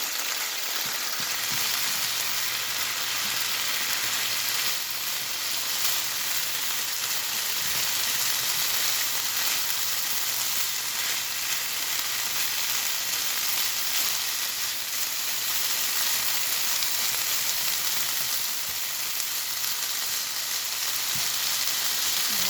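Chicken philly meat frying in a pan, a steady, even sizzle with a soft crackle that holds unchanged throughout.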